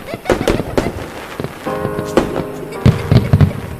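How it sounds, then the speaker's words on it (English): Fireworks launched into a dark night sky from a distance, bursting in a rapid, uneven series of sharp cracks and pops with a crackling tail between the louder bangs. "fireworks shot into the dark sky from a place far away"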